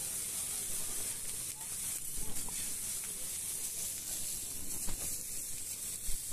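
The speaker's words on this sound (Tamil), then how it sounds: "இதுக்கப்புறம் அது கல்லை போட்டு நல்லா ஃப்ரை பண்ணிக்கலாங்க" Scarlet gourd (kovakkai) slices fry in a pan with a steady, close hiss and sizzle that holds for the whole stretch, with a few slightly louder crackles.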